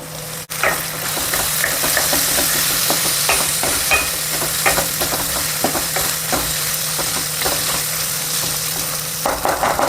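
Soaked chana dal and curry leaves frying in hot oil, a loud, close, steady sizzle with frequent scraping strokes of a spoon across the pan.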